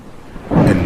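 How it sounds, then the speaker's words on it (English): A thunder crack bursts in partway through, swelling into a deep, rumbling roar as part of the stormy soundtrack of a stop-motion brickfilm. "A crack of thunder in the distance."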